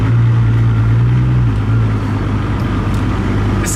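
A Ferrari sports car driving slowly around the paddock at Fiorano, its engine a loud, steady low drone with a brief held tone that drops slightly, close and continuous with no talk.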